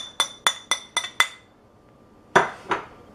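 A spoon clinks against a dish while mixing oatmeal with banana and broccoli: five quick bright taps in a steady rhythm, a pause, then two more ringing clinks, close and clear with no talking.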